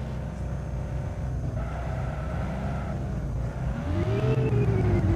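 A video-game VW Gol with a bad clutch labouring uphill, its engine droning low and strained, then the pitch rising as revs climb near the end, steady and close with a windy rush.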